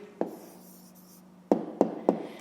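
Pen writing numbers of an answer on paper during a fifth-grade math exercise. Close, quiet scratching with a soft stroke, then three sharper taps and strokes in quick succession.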